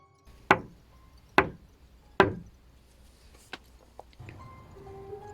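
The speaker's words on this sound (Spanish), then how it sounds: "Alguien tocaba mi puerta." Three loud, sharp knocks on a door spaced evenly, followed by a few fainter taps and a quiet tonal hum, close and without talk.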